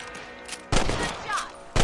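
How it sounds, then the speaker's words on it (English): Rifle shots while hunting rabbits in Red Dead Redemption, two sharp, loud reports with ringing tails about a second apart, with a faint voice underneath. "You're better at shooting rabbits than outlaws, I see."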